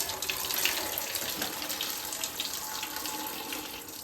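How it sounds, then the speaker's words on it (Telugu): Water runs steadily from a tap while rice is washed in a home kitchen, a continuous close splashing hiss with no talking. "వేసినమ్మా బియ్యమన్నీ కడిగేసి మూత పెట్టి ఇట్లా నీళ్ళు ఉంచేయాలి."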